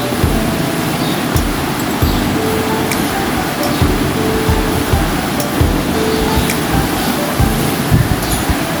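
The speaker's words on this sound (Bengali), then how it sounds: "হালকা একটু ভাজা ভাজা করে নেব" Spices fry gently in oil in a pan with a steady, loud, close hiss, dotted with faint pops and light knocks.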